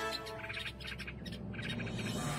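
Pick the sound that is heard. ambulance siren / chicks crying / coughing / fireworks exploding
chicks crying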